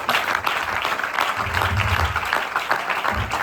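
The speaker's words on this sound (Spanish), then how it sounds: "dale un aplauso a Dios" Church congregation clapping steadily and fairly loud for the whole stretch, with a low rumble and a faint voice beneath the applause.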